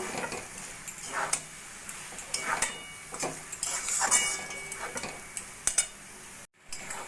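A spoon stirs ghee and sugar through a thick banana flower curry (mochar ghonto) in a pan, with soft scraping and clinking strokes in an uneven rhythm and a faint sizzle underneath.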